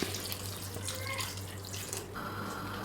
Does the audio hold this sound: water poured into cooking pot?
yes